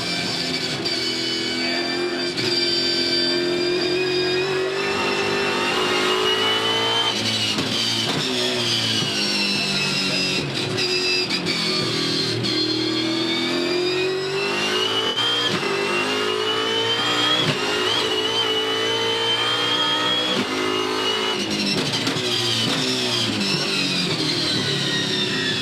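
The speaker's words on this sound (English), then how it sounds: "the Falcon right up behind the Jack Daniels Nissan Altima" V8 Supercars, a Ford Falcon running close behind a Jack Daniels Nissan Altima, race through curves at the Townsville 400 street circuit. Engine notes rise and fall steadily as the cars accelerate and brake, loud and continuous with no talk.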